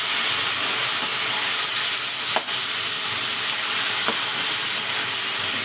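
Raw tomatoes land among frying onions in a pan, giving a loud, close, continuous hissing sizzle with a few faint clinks from stirring.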